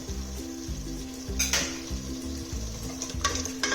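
Tomato puree bubbling and sizzling in a pan over a high flame, a steady close frying hiss with a rhythmic low stirring scrape and a few brief utensil clinks.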